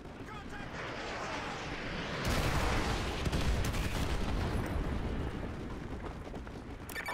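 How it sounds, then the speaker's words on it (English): Artillery strike explosions in Call of Duty Modern Warfare 2, a dense rumbling roar that swells into a sustained barrage of blasts and then fades, heavy and booming, with voices murmuring underneath. "laser designated to call in artillery on those vehicles"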